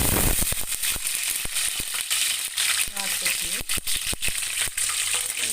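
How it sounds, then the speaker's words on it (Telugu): Green chillies dropped into boiling oil for a fish curry, giving crackling, spitting sizzles mixed with repeated clatters and clinks from the pan, all close and fairly loud. "ఆయిల్ మరిగిపోయింది ఇప్పుడు ఇందులో పచ్చిమిరపకాయలు వేస్తాను ముందు"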